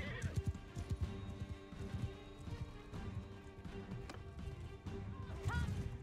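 Horse neighing and hoofbeats in the video game Mount and Blade Bannerlord, set within dense, loud battle noise with thuds and clashes running throughout.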